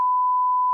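A phone gives one steady electronic beep, a pure tone lasting just under a second, alone and fairly loud.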